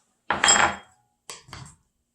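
Strawberries tossed into a soaked bread pudding mixture in a dish, heard as two quick close scraping clatters and then silence.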